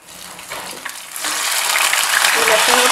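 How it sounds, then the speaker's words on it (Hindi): Garlic and onion paste dropped into hot oil with whole spices, bursting into a loud, steady sizzle that swells and holds, close and dense. "अब ये प्याज का पेस्ट डाल रहे हैं हम"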